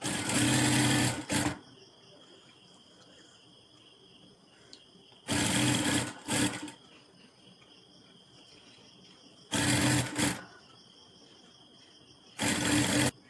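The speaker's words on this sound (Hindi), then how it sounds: "स्टिच कर देना है, एक पैर का मार्जिन छोड़ते हुए" A sewing machine stitches a blouse lining in four separate loud bursts of rapid whirring, each about a second long, with quiet pauses between them.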